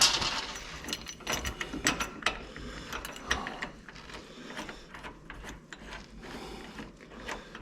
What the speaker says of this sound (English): Start to thread the 1/2-inch bolt into the tow bar.